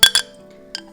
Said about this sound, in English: by stirring it into the coffee like this